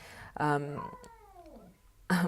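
A cat meows indoors, two or three clear, drawn-out meows close by, with a falling, wavering pitch and quiet pauses between them.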